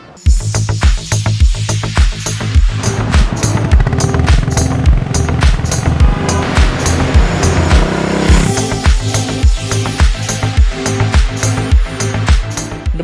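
A Royal Enfield Bullet 350 motorcycle engine thumps steadily as the bike rides along, loud and close, with a rhythmic exhaust beat that rises and settles.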